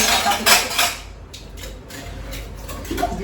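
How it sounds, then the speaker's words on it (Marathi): A child washing steel kitchen utensils, with metal dishes clattering and clinking in several quick bursts, fairly close, over a steady background hiss. "आवाज बघा भांड्याचा, खटखट खटखट"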